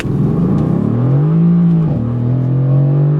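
A 2018 Mercedes-AMG car launching under launch control, its engine note loud and close, rising as it pulls away, dipping at a quick gearshift and then climbing again.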